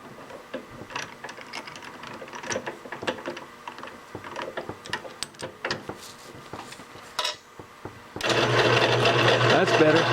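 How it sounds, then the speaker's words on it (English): A drill with a 5/16 bit bores into the center of a golf cart axle. Scattered clicks and taps lead up to a loud, steady grinding whir that starts abruptly near the end and holds. "we're going to go down the center of that hole with a 5/16"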